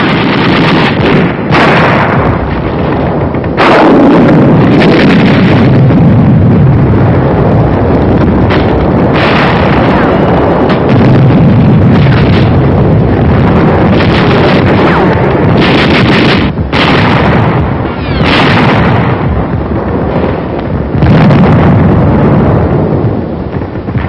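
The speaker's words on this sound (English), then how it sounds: "Carried rocket gun. Firing it takes close teamwork." A carried rocket gun fires in WWII combat on New Britain in 1944, with several sharp, loud blasts over a constant, rough roar of wind-like noise.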